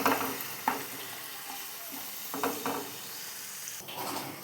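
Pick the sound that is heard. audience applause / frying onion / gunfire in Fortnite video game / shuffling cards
frying onion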